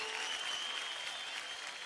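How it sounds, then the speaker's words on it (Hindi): Audience applause for dancer Sanchit at a televised dance competition finale, dense sustained clapping filling the whole moment, fairly faint and steady with music-like tones underneath. "संचित के लिए सबसे पहले अपार तालियां।"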